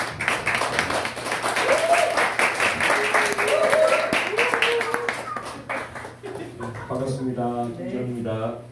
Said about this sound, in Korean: 박수로 환영을 드리겠습니다.